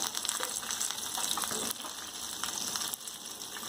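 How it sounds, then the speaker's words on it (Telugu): Peanuts, green chillies, curry leaves and turmeric fry in a pan with a dense, steady sizzle close up, broken by a couple of stirring shifts. "పసుపు అన్నీ వేసుకొని బాగా ఫ్రై చేసుకోవాలి."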